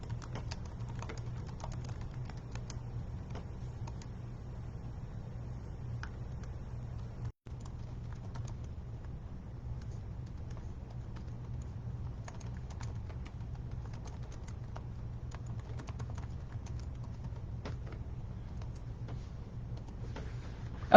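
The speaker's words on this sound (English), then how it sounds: "let me type this in really quick" Someone types on a computer keyboard, with quick scattered clicks and taps running steadily over a low background hum, fairly faint and without talk.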